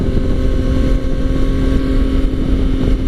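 A 2017 Yamaha FJ-09 motorcycle with an Akrapovic exhaust on the move, a steady loud engine drone mixed with heavy wind rush across the whole clip.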